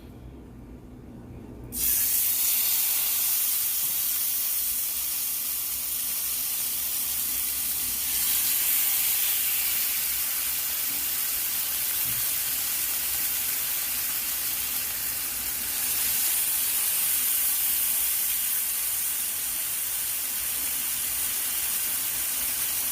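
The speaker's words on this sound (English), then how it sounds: "while the salmon is searing" Salmon fillet searing top down in a hot pan, a loud, even hiss that starts abruptly after a brief quiet moment and holds steady, swelling slightly at times, with no talking.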